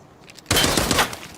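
A sudden burst of rapid gunfire in the video game Arena Breakout Infinite erupts after a brief quiet moment, loud and sustained for about a second.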